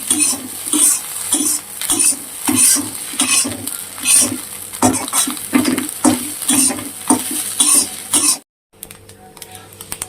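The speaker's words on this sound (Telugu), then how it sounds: "చిల్లీ సాస్, కొంచెం వెనిగర్, కొంచెం సోయా సాస్ అన్నీ వేసుకొని మళ్ళీ ఒకసారి ఫ్రై చేసుకుందాం." Egg fried rice is tossed in a pan with chilli sauce, vinegar and soy sauce, with loud rhythmic scraping and stirring over a hissing sizzle and a brief cough, then a short cut near the end.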